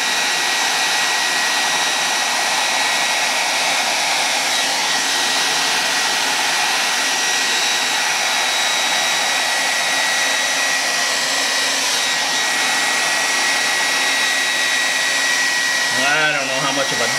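A hair dryer with resin inside it blows in a steady, loud whoosh with a high whine, used over resin art, running continuously before a brief change near the end.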